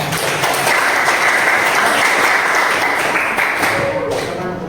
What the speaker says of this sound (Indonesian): Kita kasih aplaus kelompok 2.